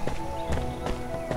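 Horse hooves in the video game Rangers of Oblivion clop in an even trotting rhythm, several steps in quick succession, heard fairly close with no voices.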